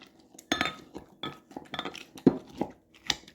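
Granola ingredients being mashed in a bowl by hand, giving a series of irregular clinks and knocks of utensil against dish, close and moderately loud, with no talking.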